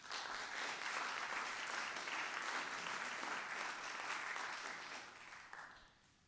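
An audience at a Rotary club meeting applauds to welcome speaker Chris Knapp, a steady dense clapping from a room full of people that holds for several seconds and then tapers off near the end.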